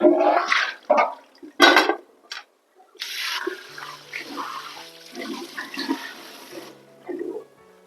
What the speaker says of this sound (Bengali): খুব হালকা হাতে কাঁকড়াগুলোকে আমি ধুয়ে পরিষ্কার করে নিলাম